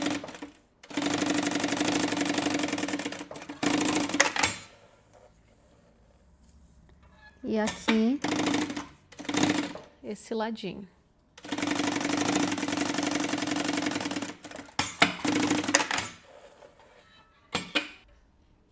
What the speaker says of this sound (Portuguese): E eu vou costurar esse zíper aqui.